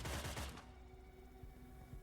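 Gunfire in the video game Cyber Knights: Flashpoint comes as a loud burst of rapid shots at the start, then fades into quieter background noise with a few faint thuds.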